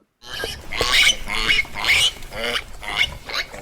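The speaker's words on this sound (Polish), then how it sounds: "z żalu świnka aż zawyła" A cartoon pig in a Polish children's fairy tale squeals and wails in grief, a series of loud, close, strained squeals in irregular bursts, with no talk over it.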